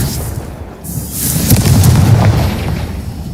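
A Confringo blasting spell from Hogwarts Legacy bursts into a loud, rumbling explosion with a deep boom that swells and lingers for a couple of seconds before fading.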